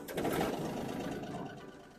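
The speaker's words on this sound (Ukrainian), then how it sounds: "Трактор здавівся просто з півоберту. Звук дуже м'ягенький, двигуна приємний." A Yanmar AF22 compact tractor's diesel engine catches after glow-plug preheat and settles into a soft, steady idle, a close, continuous rattling hum that eases slightly in level over two seconds.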